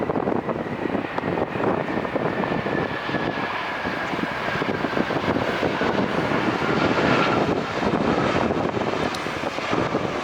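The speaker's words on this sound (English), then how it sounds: "that's a beautiful plane" Saudia airliner at LAX airport, loud sustained engine roar and rushing wind noise close by for the whole stretch, steady and unbroken, with no talk.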